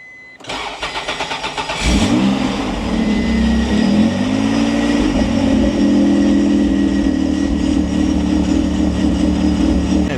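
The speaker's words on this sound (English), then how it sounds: "Now we're going to fire the car up and see if it works and try and charge the system." A twin-turbo 1993 Acura NSX with high mileage cranks over in a quick series of starter pulses, then catches and settles into a steady, loud idle that holds close and constant.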